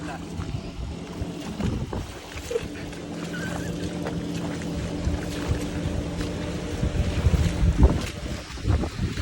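A tractor pulling a rotavator churns a flooded paddy field. Its engine drones steadily with low rumbling and splashing, and voices talk over it close by.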